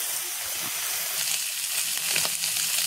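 Small fish frying in a pan, a steady close hiss and crackle of hot oil that holds evenly throughout with a few soft bubbling pops and no talking.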